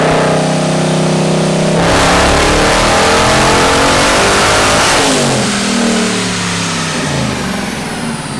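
A supercharged Ford Mustang GT V8 engine revs hard and loud on a dyno, pitch climbing steadily through a long pull to 6,000 rpm, then dropping back and rising again in a sustained roar.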